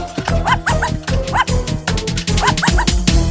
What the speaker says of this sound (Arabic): والكلب قال عو عو عو